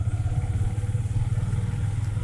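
A motorbike passing on a road at night, a steady low engine drone with rumbling pulses throughout, fairly loud and close, with no talk.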